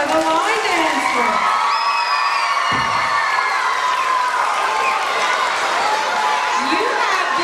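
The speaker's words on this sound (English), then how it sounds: "Let's hear a big round of applause for the line dancer." Loud audience cheering and shouting with applause for a line dancer at a staff event, whoops and excited voices rising throughout, sustained and lively.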